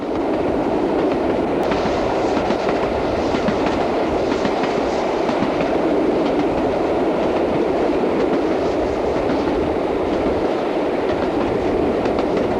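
The steam locomotive Scots Guardsman runs close by near Dent Head Viaduct in Britain. Its loud, steady rumble mixes with a rhythmic clickety-clack of wheels throughout, with no voices.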